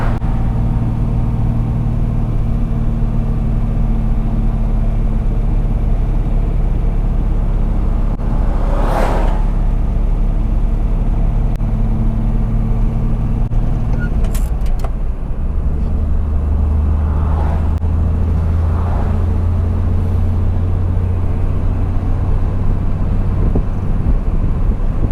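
A 63-year-old motor idles steadily in 110°F heat with a radiator fan spinning at raised speed, giving a loud continuous low rumble and hum with wind-like rushing and a shift in drone partway through.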